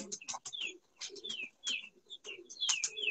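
Pigeons at a loft where a pigeon has just landed give soft coos and calls in short repeated bursts with brief pauses, close by and moderately loud, mixed with a few higher bird chirps.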